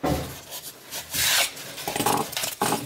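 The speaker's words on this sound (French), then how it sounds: "On peut le poncer, ça se ponce assez facilement" Extruded polystyrene foam being sanded by hand, rough rasping strokes that come in irregular bursts, close and fairly loud with short gaps between passes.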